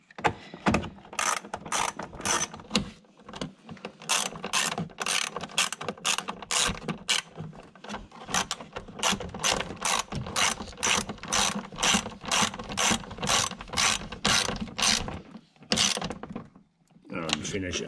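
A hand ratchet clicks steadily in quick strokes as bolts on a Stage 3 aero kit for a C7 Corvette are snugged up, with short pauses between runs of clicks.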